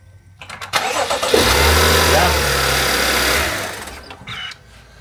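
A BMW car engine starts up in a garage: a short cranking burst catches into a loud rumbling idle that holds for a couple of seconds, then dies down, with voices around it.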